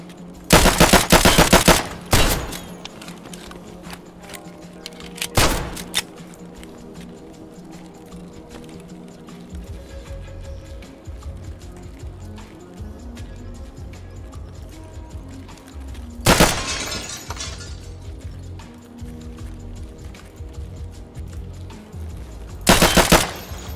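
Video game gunfire comes in several loud, sharp automatic bursts, with a heavy barrage at the start and more bursts later, separated by quieter stretches of low ambient rumble.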